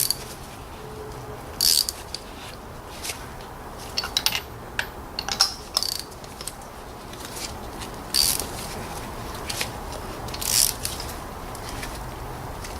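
A ratchet tightens spark plugs on a Volvo V engine during a coil pack and plug swap, giving quiet, intermittent bursts of sharp mechanical clicks with short pauses between them and no talking.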